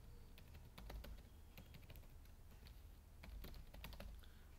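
Rapid, steady keystrokes on a computer keyboard as an email address is typed in during a WordPress local install, close and clear, with bursts of clicks and no voices.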